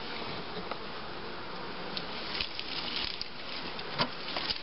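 Honeybees buzz during an autumn colony inspection as a hive is readied for winter, a dense steady drone close by with small bumps and taps mixed in and no talking.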